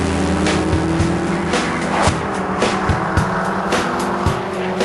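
A supercharged 4.2-litre V8 Jaguar XKR sounds loud and close, with a droning engine note and repeated sharp bursts and tyre noise as it is driven hard, and no voices.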